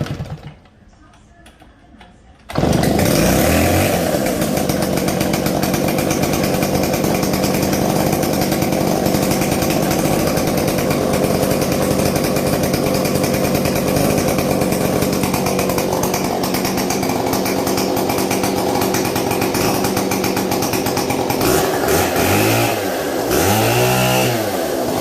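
Vintage chainsaw starting up after a brief quiet lead-in, then running loud and steady close by for over twenty seconds, with the engine pitch rising and falling as the throttle is worked near the end.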